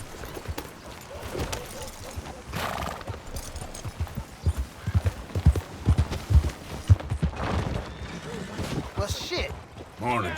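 Horse hooves clip-clop in a steady rhythm in a video game, strongest midway through, while people talk over a busy background.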